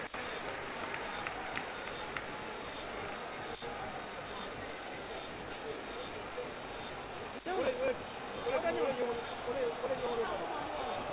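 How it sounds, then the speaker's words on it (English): Football stadium crowd at a Gambia vs Angola home match, a constant roaring wash of many voices that swells louder near the end, with a commentator talking over it. "Look at the crowd shouting."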